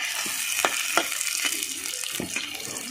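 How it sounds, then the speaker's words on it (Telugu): Onions sizzle in hot oil for a village-style country chicken curry, a steady close hiss broken by regular clacks of a spoon stirring the pan. "ఇంకా నూనె కాగింది కదా, ఉల్లిగడ్డలు వేసుకొని ఉల్లిగడ్డలు మంచి ఎర్రగా అయినాకనే చికెన్ వేద్దాం"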